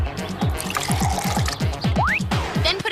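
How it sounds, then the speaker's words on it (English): Vinegar poured into water, a short, close gurgling pour with a quick run of glugging bubbles and a brief rising fill note near the end. "Just add a half a cup of vinegar to a half a cup of water."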